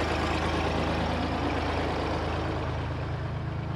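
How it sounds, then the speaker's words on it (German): A vintage Deutz D500G tractor engine runs steadily at a tractor meet, a loud, continuous low idle with a regular throbbing pulse and no talk. "Stilgerecht reißt man hier natürlich mit dem Trecker an"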